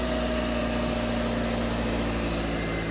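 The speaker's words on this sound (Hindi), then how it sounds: "ये देखें गाड़ी माशाल्लाह स्टार्ट हो गई है, बेहतरीन।" A Suzuki Alto VXR car engine idles steadily just after starting, giving a smooth, even, continuous hum with no variation in pace or loudness.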